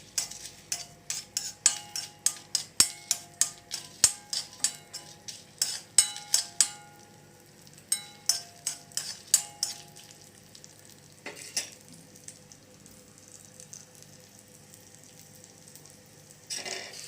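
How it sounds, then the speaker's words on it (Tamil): Black pepper, cumin, dried red chillies and curry leaves tempering in hot ghee for rasam, heard as a soft sizzle under repeated sharp clinks and scrapes of a metal spoon stirring in a small pan, then a quieter stretch. "நெய் போட்டு மிளகு ஜீரகம் வத்த மிளகாய், அப்புறம் 2 கருவேப்பிலை"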